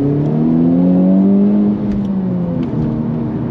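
A Honda Civic Type R GT engine revving hard, loud and close, its pitch climbing steadily before dropping off partway through, then settling into a lower, rougher drone.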